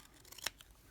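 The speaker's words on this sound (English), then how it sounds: "Now I'm just going to trim this end off right here like so." Ribbon scissors give a single quick, crisp snip through card paper while trimming a card piece, close and alone in a quiet room.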